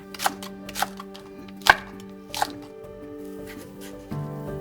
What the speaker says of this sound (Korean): 모든 재료들은 식감 좋게 골직하게 썰고